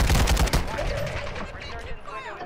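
Rapid automatic gunfire in the video game Call of Duty: Modern Warfare III, a quick burst of close, loud shots in the first half second followed by fading echoes and a short reverberant tail.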